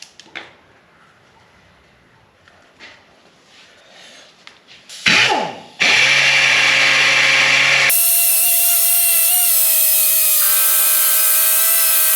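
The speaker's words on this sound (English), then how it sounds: "I'll sand this flat, and once it lines up, I'll sand the inside smooth" Sanding an ABS plastic body part for an R32 GT-R, with quiet handling noises first, then a loud, steady, harsh whirring grind that carries on to the end.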